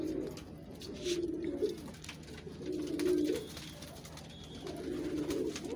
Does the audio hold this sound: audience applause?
no